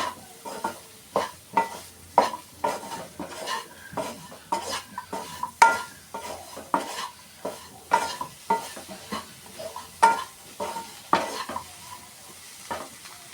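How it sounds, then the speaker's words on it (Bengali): Ground chili, coriander, cumin and pepper powders fry in a pan for cauliflower chops, with steady sizzling under a rhythmic series of spoon stirs scraping the pan, close and alone with no talking. "লঙ্কা গুঁড়ো ধনে গুঁড়ো জিরে মরিচ গুঁড়ো দিয়ে সাথে ভাজতে থাকবে"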